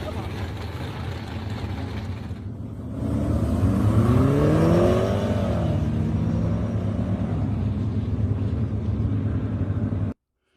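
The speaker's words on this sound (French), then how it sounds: "Tu vois, c'est la voiture de rallye. C'est la voiture de course." A 200-horsepower rally race car engine runs loud and close, rising into a revving climb about a third of the way in and holding a steady roar until it cuts off abruptly near the end.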